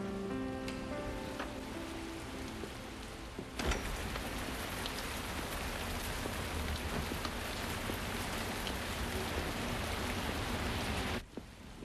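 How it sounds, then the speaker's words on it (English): Steady rain pours down in a dense, even hiss that swells suddenly heavier a few seconds in and then holds at a constant roar until it cuts off near the end. "Starting to rain again, Martha."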